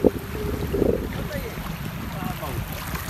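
A low, steady fishing boat engine drones over rushing wind and water, with a voice briefly rising above the noise.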